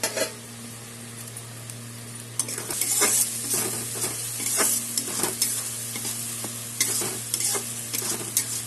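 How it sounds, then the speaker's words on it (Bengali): Ground cumin, coriander, red chili and Kashmiri chili powders frying together in oil, a loud close sizzle with repeated scraping and clinking stirs against the pan and a steady low hum underneath. "1 চামচ জিরের গুঁড়া, 1 চামচ ধনে গুঁড়া, 1 চামচ লাল লঙ্কার গুঁড়া, 1 চামচ কাশ্মীরি লঙ্কার গুঁড়া, সব একসাথে আমি মশলা এখন কষাবো"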